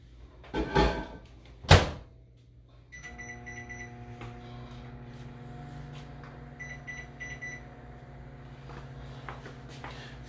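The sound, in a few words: microwave oven being started for four minutes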